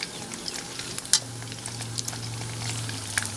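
Pork belly frying in hot oil for crispy pork, a close, steady sizzle with scattered popping crackles and occasional louder spits.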